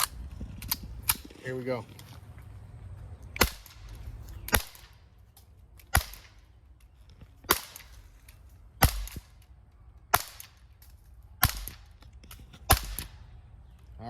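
An Umarex Beretta Mod 84 FS air pistol fires eight sharp, snappy cracks spaced about a second or so apart, close and loud against a quiet room, after a brief spoken word and some handling clicks.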